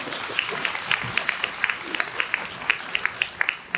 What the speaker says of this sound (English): Let's give your president a round of applause.